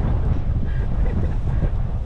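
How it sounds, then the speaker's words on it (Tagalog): Strong outdoor wind buffets the microphone near the sea, a steady low rumbling roar with no breaks and no voices. "Sarap ng hangin dito."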